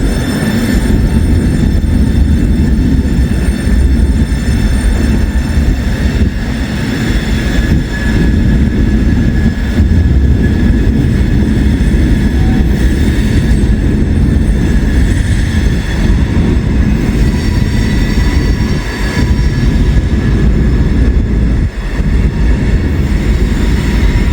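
An Amtrak train rolls past on elevated tracks, a loud, steady rumble of wheels and cars that holds through the whole stretch, with occasional faint squeals from the rails and no voices.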